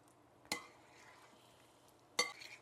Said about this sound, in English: we're going to gently toss this together and get the shrimp nice and coated